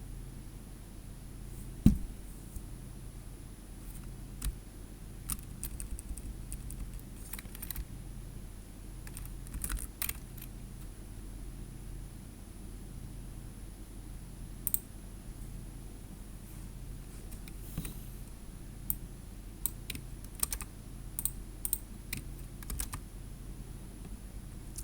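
Steady keystrokes on a computer keyboard during a PowerShell lab session, clicks tapping in irregular bursts with occasional louder strikes over a constant low hum, close and moderately quiet with no speech.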